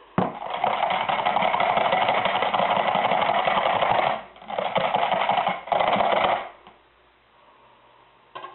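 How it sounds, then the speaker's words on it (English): Fragrance oil being whisked into soap batter for a tropical hanger swirl soap, a steady, loud buzzing whir that runs for about four seconds, breaks briefly, resumes, then stops, leaving near silence. "And I'm just gonna whisk it in."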